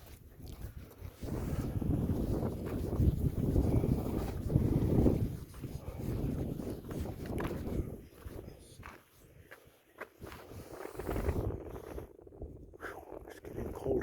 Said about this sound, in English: It's getting colder because of the wind.